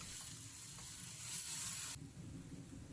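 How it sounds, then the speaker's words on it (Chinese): Beef with ginger and garlic stir-frying in a wok, a steady close sizzle with stirring scrapes that drops in brightness partway through, no talking. "再和姜蒜一起炒"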